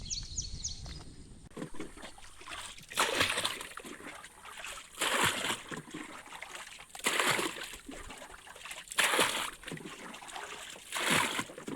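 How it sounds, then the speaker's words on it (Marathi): Water being scooped out of a swamped wooden boat at a mud crab catching spot, heard as repeated splashing scoops and pours, roughly every two seconds, close by, with faint birds in the background. "आता सगळं पाणी मी काढून घेते"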